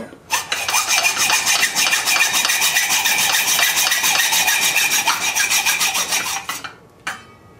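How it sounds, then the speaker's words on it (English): A hand saw cuts a piece clamped level in a vise during a homemade water-cooled Briggs engine build, a steady rapid rasp of close, loud strokes for about six seconds, then a brief final scrape. "then you run your saw along the bottom here"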